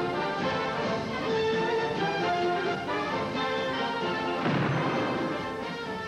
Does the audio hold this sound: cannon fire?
yes